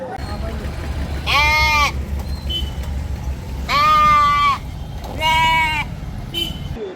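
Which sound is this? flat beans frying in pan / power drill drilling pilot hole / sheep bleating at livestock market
sheep bleating at livestock market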